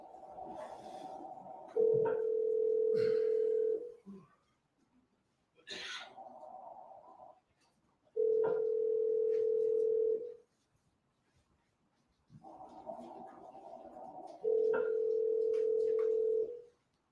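A phone call rings out in a steady repeating ringback pattern, three long tone bursts separated by pauses, each preceded by a softer burst, before the line goes to voicemail.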